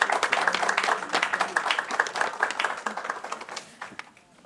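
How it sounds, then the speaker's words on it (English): An audience at a women's empowerment event applauds a speaker, a dense burst of many hands clapping that starts strong and gradually thins and fades over a few seconds. "Give her a big round of applause."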